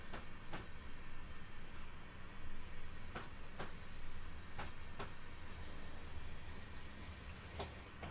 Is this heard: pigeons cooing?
no